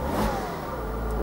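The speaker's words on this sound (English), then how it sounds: "If I rev the car," Porsche engine revving up under throttle, a steady, close mid-pitched roar that rises slightly and holds without talk over it.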